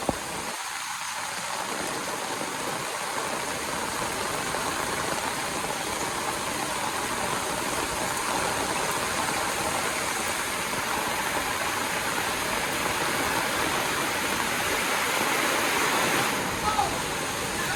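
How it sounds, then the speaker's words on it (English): Rainwater pours steadily into a collection barrel on a rainy day, a loud continuous rushing splash that holds even from start to finish. "Look how fast this fills up. We just put that barrel there. That works great. That's collecting so much water."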